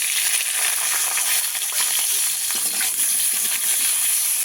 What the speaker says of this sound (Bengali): কাঁচা টমেটোগুলো ভেজে নেব।